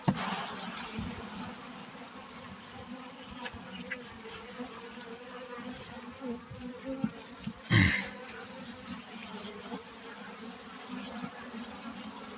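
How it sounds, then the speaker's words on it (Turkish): Agitated honeybees drone steadily around a hive for the whole stretch, the buzzing fairly even with one brief louder burst partway through. "Arılar biraz hırçınlaşmış."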